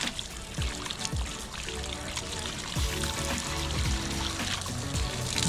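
Water trickles and pours into a drinking container for ducks on a Filipino farm, a steady close splashing stream lasting throughout.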